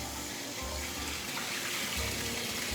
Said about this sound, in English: But just run some cold water on it.